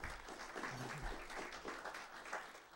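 Audience applause at a 2012 chamber of commerce candidate forum, a crowd clapping steadily at moderate level with a low rumble of room noise underneath.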